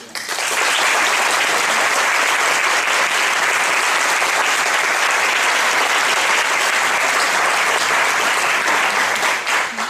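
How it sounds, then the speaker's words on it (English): Sustained applause from an audience at a high school mock trial competition final held in a courtroom, dense steady clapping that continues throughout. "have a round of applause for them"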